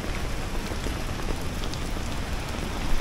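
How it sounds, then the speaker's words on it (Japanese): Heavy rain pours down on a mountain trail toward the Jomon cedar, a loud, dense, unbroken roar of drops with no voices. "これはすごい雨だ。"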